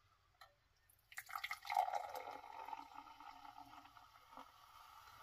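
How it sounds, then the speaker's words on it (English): A can of Prime Energy Orange Mango drink cracks open with a sharp snap followed by a hissing fizz that fades away, close and quiet with no talking. "So crack it open. Might be able to hear a fizz."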